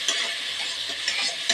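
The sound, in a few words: lentils (dal) frying in hot oil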